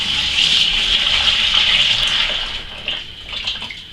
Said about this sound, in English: Then I can pour in my lovely sugar hop oak tea.